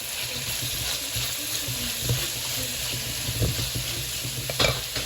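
Celery, capsicum and cabbage stir-frying for chow mein, with a steady sizzle in the pan and irregular scraping and stirring clatters from the utensil, close and fairly loud throughout.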